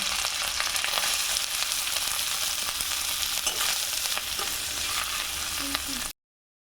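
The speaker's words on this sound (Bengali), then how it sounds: "নারকেল কুচিগুলো ভালোভাবে ভেজে নেব" Chopped coconut pieces frying in hot oil in a pan for ghugni, a loud, dense, continuous sizzle with faint stirring taps close by, no talking, cutting off abruptly.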